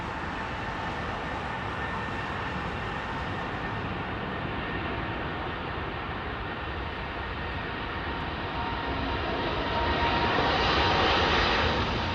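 An airliner departs Heathrow Airport's runway 27R, its broad, steady jet engine roar filling the scene continuously and swelling louder toward the end as it climbs away.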